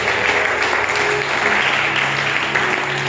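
A church congregation applauding and cheering the Lord during a Sunday service, sustained loud clapping from many people in a large room, steady throughout with no pause.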